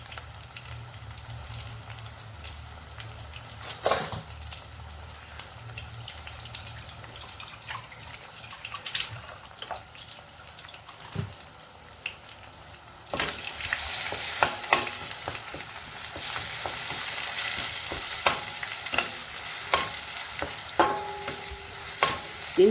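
Chopped onions stirred and fried in a pan for a spinach and onion-chili curry, a soft steady sizzle with intermittent scraping strokes. The frying grows louder and hissier in the second half, with no talking.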